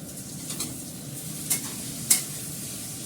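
Masala sizzles and sautés in a pan for a paneer-style dish, a soft continuous frying hiss with a couple of crisp scrapes and taps from a spatula being stirred through it.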